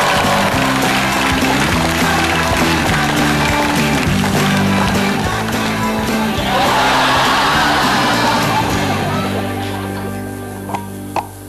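A stand-up comedy crowd on Metro TV cheers and applauds as headliner Raditya Dika is introduced, a dense roar of clapping and whoops over booming stage music that fades out near the end.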